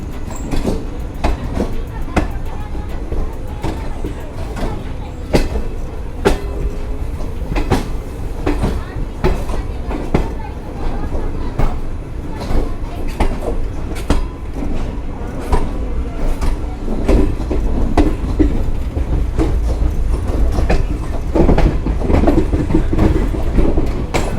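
A Jammu Tawi–Jodhpur Express sleeper train rolls along with a steady rumble and rhythmic clickety-clack of wheels over rail joints, loud and continuous throughout.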